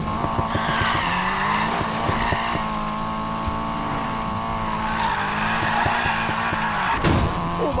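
A car drifting in the Need for Speed Payback video game holds a long, loud tire squeal over a revving engine, with the screech wavering in pitch and a few sharp knocks along the way.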